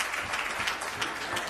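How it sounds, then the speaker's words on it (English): A church congregation applauding a choir, a dense steady wash of many hands clapping at moderate distance for a short stretch. "Give them a hand clap as they come."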